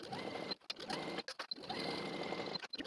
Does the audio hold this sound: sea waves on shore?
no